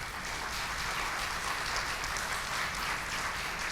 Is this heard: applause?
yes